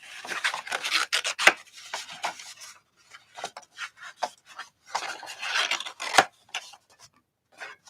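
Paper being trimmed with a trimmer, close scraping and rasping strokes in irregular bursts with short pauses between cuts.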